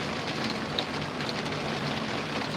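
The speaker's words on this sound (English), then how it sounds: "I'm sure you can hear the rain." Steady rain from a thunderstorm falls near and constant, a fine, even hiss of drops with no talk over it.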